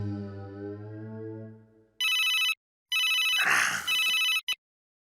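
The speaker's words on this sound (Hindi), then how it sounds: "सबसे पहले डॉक्टर हाथी को फोन कर दूं" A telephone rings out as a call is placed: two bursts of a bright electronic trill with a short gap between them, loud and close, following a fading musical tone, with a soft rustle under the second burst.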